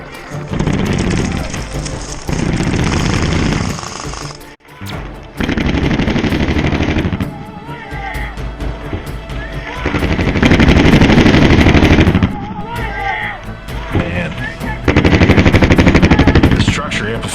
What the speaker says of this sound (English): it contorts the sound, so it's hard to locate the position of the gun within the structure